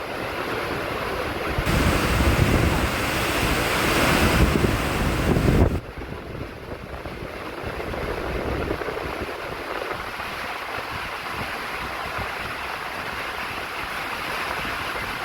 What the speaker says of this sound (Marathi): पाण्याचा वेग आपण बघू शकता आहे पूर्ण मुसळधार पाऊस अति सोसाट्याचा वारा सुटलेला आहे